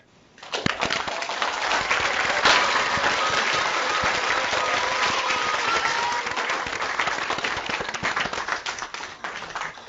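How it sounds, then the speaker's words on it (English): Audience applause for a Pro Football Hall of Famer rises quickly into dense, crisp clapping from a crowd and keeps going steadily for about nine seconds before starting to thin out. "join me in giving a round of applause to Pro Football Hall of Famer, Mr. Elvin Bethea."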